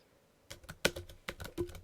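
Keys clack on a computer keyboard as code is typed, a quick irregular run of close, crisp taps with brief pauses between bursts.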